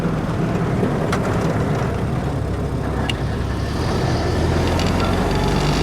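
A 1947 Jeep Willys CJ2a engine drones loudly and steadily from inside the open vehicle, with a shift in tone as it downshifts and a few faint clunks over broadband road and wind noise.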